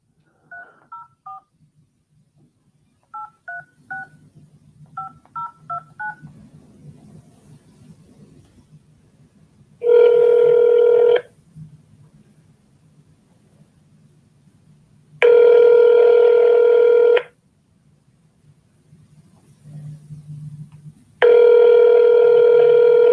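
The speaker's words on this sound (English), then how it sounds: "So let's go dial." Telephone keypad tones beep in short clustered bursts while a number is dialed to call a seller, followed by three long, loud ringback tones separated by pauses, with a faint low hum throughout.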